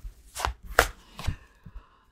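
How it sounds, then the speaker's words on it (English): A deck of tarot cards being shuffled by hand, four or five separate soft riffling slaps spaced about half a second apart, close and quiet with no talk. "I love this deck, but it's very challenging to shuffle."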